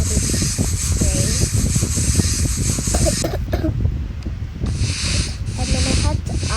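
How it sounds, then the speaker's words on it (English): Makeup setting spray misted onto a face: a steady hissing spray with short pauses, heard over a busy background of music and noise. "So I quickly applied the setting spray."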